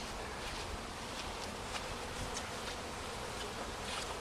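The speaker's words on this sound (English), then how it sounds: "this is a honeybee" Honeybees buzz around a hive during a hive split, a dense, steady hum of many insects close by, with no talk over it.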